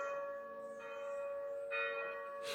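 Town church bells ring with sustained, resonant tones that hang in the air, each stroke swelling before fading, heard alone at moderate distance.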